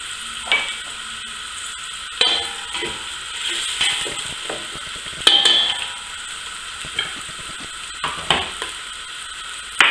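Onions fry in palm oil for a Cameroonian pistachio squash-seed sauce, a soft sizzle broken by intermittent scrapes and clicks of stirring in the pan, close and quiet with no talking.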